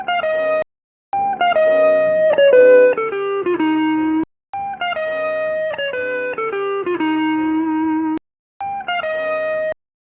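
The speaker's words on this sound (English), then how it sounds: "let's real quickly make something with the guitar. Again, it's boxy sounding." A boxy-sounding guitar played dry, with no reverb or compression, in a short repeated phrase of plucked notes and chords in two similar bursts, each separated by brief silence.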